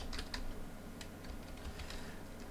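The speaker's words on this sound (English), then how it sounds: "I'm just hitting tab on my keyboard, it inserts a row for us" Keys tapped on a computer keyboard, including presses of the tab key, a few light clicks close by over a steady background hiss.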